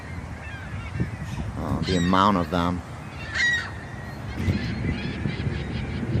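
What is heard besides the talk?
geese honking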